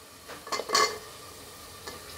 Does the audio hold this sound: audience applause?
no